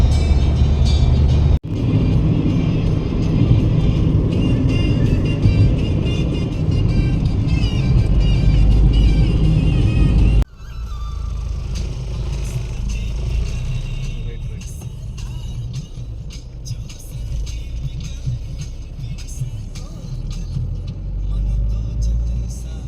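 Steady car interior road rumble and engine drone while cruising on a highway at moderate speed, loud and continuous, with a brief cut partway through and a quieter, smoother stretch afterward; no speech.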